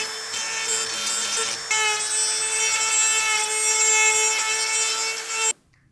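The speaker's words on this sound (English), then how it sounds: "Then just start grinding down." Plastic rivets on GMC Sierra headlight LED boards are ground down with a rotary tool, giving a steady high whine with a pitch shift partway through, close and loud, then cutting off abruptly near the end.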